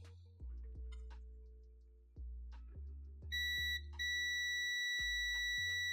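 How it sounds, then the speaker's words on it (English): Electronic beeping from a multimeter used while repairing a gaming laptop, with short repeated beeps early on, then a loud, steady tone that holds from the middle of the clip to the end. No one speaks. "I'm sorry if that beeping is so loud."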